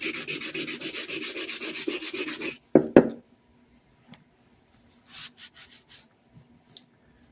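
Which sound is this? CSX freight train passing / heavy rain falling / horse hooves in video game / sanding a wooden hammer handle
sanding a wooden hammer handle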